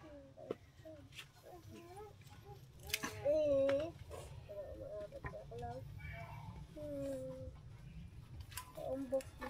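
Chickens cluck and call in a series of short squawks close by, with scattered knocks and background noise.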